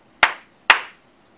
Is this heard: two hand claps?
yes